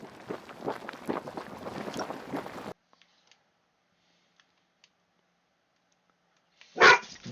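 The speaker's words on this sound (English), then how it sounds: "Whoa, dogs." Dogs bark in a rapid, overlapping flurry for a few seconds. After a long near-silent gap, one loud bark rings out close by.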